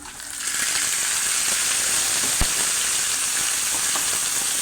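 Pork meat for caldereta dropped into a hot pan, with an abrupt rise into a loud, continuous, bright sizzle and hiss that holds steady, with a faint clink of utensils.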